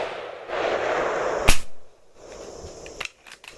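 An air rifle firing a 7.4 grain pellet: a single sharp, loud crack at close range, followed by fainter clicks and mechanical handling noise, with no speech.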